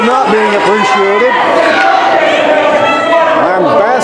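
A wrestling crowd jeers and shouts loudly at a heel on the mic, a dense, continuous roar of voices with rising and falling yells throughout.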